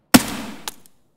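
A gunshot in the video game Escape from Tarkov, one sharp loud crack followed by a decaying tail and a fainter second report, then silence.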